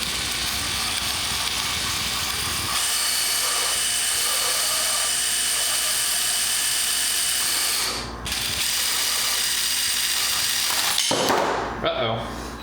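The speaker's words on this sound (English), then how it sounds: "So I got my drill here." A power drill whirs steadily at close range while working on a John Deere 1032 snowblower, pausing briefly near the end before spinning up again.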